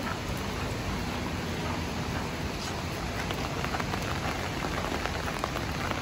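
Steady rain falls in Singapore near the ArtScience Museum, a dense, even hiss of drops on hard surfaces that holds at the same level throughout, with no voices.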